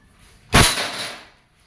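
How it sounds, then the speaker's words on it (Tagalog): A Crosman Phantom P10 airgun fires a single sharp, loud crack, and the sound decays over about half a second before it goes quiet. "Okay, so, Crossman Phantom P10. Firing test."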